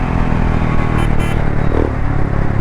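Royal Enfield Himalayan 411 fitted with an Akrapovic exhaust, accelerating on the road, a loud continuous rumbling engine roar with wind noise, close and steady throughout, without talk.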